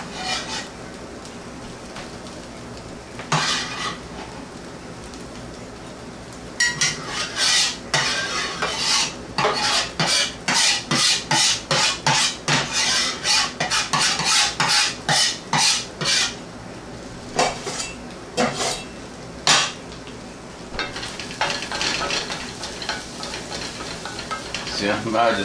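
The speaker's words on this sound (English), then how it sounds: "my onions are starting to brown just a hair. So what I'm going to do is throw in these mushrooms" Onions browning in a pan with mushrooms added, sizzling and frying steadily while a utensil stirs and scrapes in bursts, clattering loudly against the pan through the middle stretch before settling back to a softer sizzle.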